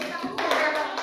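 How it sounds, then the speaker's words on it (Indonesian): Children clapping their hands in a classroom, a short burst of mixed claps at close range with young voices underneath. "Tepuk tangan."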